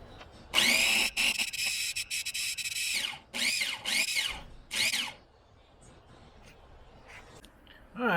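Pork rinds ground in a food grinder, loud whirring bursts of the motor, a long run followed by several shorter pulses, close up with quiet gaps between.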